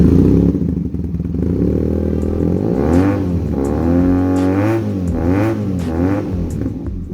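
A Benelli TNT 250 motorcycle engine revs loudly and steadily, its pitch rising and falling through several throttle blips, with a rough mechanical clatter underneath.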